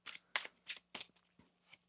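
A tarot card deck being shuffled close up gives a quick series of crisp riffling bursts, about six short flutters in under two seconds, quiet and with no voices.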